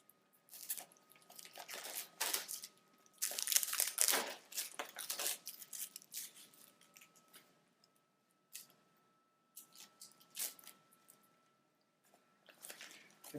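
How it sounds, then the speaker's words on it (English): Protective plastic film being ripped and peeled off a PAPR hood face shield, irregular crinkling and tearing bursts close up, loudest in the first half, then sporadic crackles after a quiet gap. "The hood also has a protective shield that you should rip off so you can see clearly."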